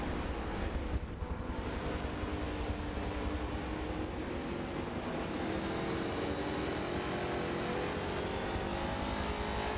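Race cars, including a Mustang in a historic Trans Am series at Mugello in a racing game, drone on continuously with a steady engine roar and wind-like rush that holds at an even level throughout, without talk.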